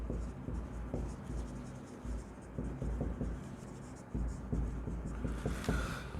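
Pen writing on paper: continuous close scratching and scribbling with short strokes and brief pauses, steady and fairly quiet over a low background hum.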